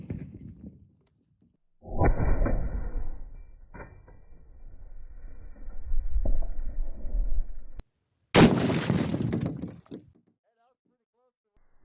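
A single heavy blast from a 20mm Lahti L-39 anti-tank rifle rings out loud and close near the end, preceded by metallic handling clunks and rustling as the weapon is readied.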